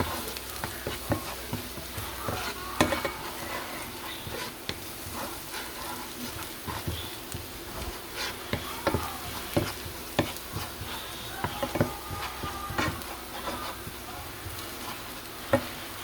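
Garlic fries in a pan, a soft continuous sizzle broken by frequent stirring scrapes and clinks, close but fairly quiet, with no talk.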